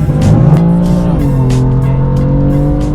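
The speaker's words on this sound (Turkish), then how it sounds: "bugün bir BMW M4 dinleyeceksiniz" A BMW M4 with a 3.0-litre turbocharged engine and DCT gearbox revs loudly and steadily up close, its exhaust note climbing in pitch before holding at a high drone, with no talking.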